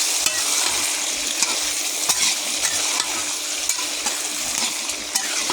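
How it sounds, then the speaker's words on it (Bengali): Onions and potatoes fry in a pan while a utensil stirs them, with steady close sizzling broken by repeated scraping strokes and soft clinks, and no talking. "এভাবে আবার ভালো করে নেড়ে দেবো"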